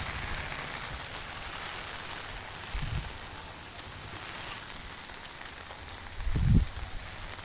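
Steady rain falls on surfaces in Bhagamandala, Kodagu, during monsoon flooding, a constant close hiss with two brief louder low thumps partway through and no voices.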